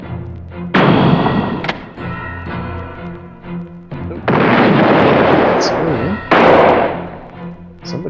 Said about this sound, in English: Somebody shot us.